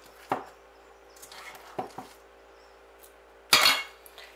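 Scooping tuna patty mixture by hand from a bowl in a home kitchen brings a few scattered utensil clinks and light scrapes, ending in a louder brushing clatter, with no talk.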